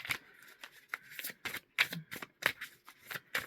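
A tarot deck of cards is shuffled by hand nearby in quick, irregular riffles and slaps. The crisp bursts repeat several times in a quiet room.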